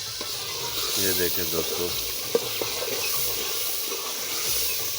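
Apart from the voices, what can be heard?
potatoes and masala frying in ghee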